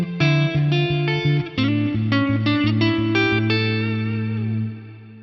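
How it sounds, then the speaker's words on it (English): Electric guitar through an Axe-Fx III with a short, dark London Plate reverb plays a quick run of picked notes and chords, then lets the final chord ring out and fade smoothly. "London Plate, nice shorter, darker reverb"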